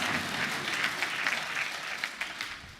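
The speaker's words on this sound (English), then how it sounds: "I think he deserves a better round of applause." A seated audience at a book presentation and graduation lecture gives a steady round of applause. The dense clapping holds at an even level throughout and fades slightly at the close.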